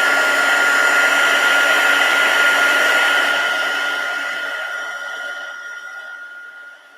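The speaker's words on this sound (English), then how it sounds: "Unplug the heat tool." A crafting heat tool blows hot air in a steady, loud whoosh for about three seconds, then fades out as it powers down and falls silent.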